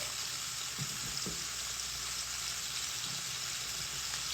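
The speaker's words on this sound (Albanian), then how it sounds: "Tani, këtu kam qepën e prerë, do ja hedh sipër." Chopped onion is tossed onto cabbage cooking in a frying pan, giving a steady, even sizzle with a couple of soft thuds near the start.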